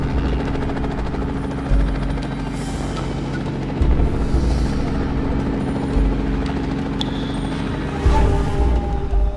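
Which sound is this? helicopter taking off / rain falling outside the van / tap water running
helicopter taking off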